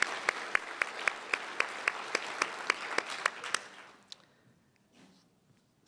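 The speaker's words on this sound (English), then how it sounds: "let's give him a round of applause." Applause at an awards ceremony for distinguished DC government employees: a small audience claps in a fairly regular rhythm with some sharp individual claps standing out, then it thins and dies away to near silence.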